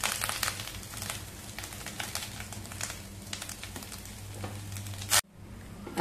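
Freshly grated wet coconut sautés in ghee in a pan, a soft, steady sizzle broken by repeated scraping and stirring taps before the sound cuts out abruptly near the end.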